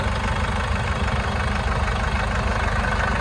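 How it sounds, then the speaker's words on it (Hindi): A car idling with both AC condenser fans running and speeding up as the engine warms, producing a steady, loud whirring engine drone that holds constant from start to finish with no voices. "दोनों पंखे चल गए और इनकी स्पीड भी बढ़ गई।"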